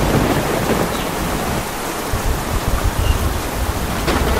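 Heavy rain pours down on a flooding slum area in a dense, continuous roar, loud and close, with no voices.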